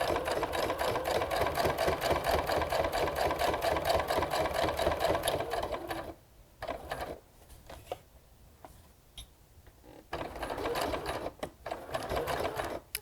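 A sewing machine stitches a fabric bookmark in fast, even mechanical bursts, pauses briefly for a few seconds, then runs again at close range with no voices.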